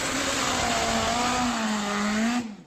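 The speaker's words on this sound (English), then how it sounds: "these are known as top fuel motorcycles" A supercharged, nitromethane-burning four-cylinder top fuel motorcycle engine holds a loud, steady droning note close by, then cuts off abruptly at the end.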